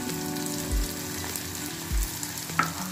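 Tomatoes go into a hot pan for a quick paneer dish, with a loud continuous frying sizzle and a couple of soft stirring knocks, and no voices.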